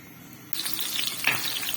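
Onions browning in a pan, a steady frying sizzle that starts abruptly about half a second in and carries on as a close, continuous hiss with a brief louder spurt partway through.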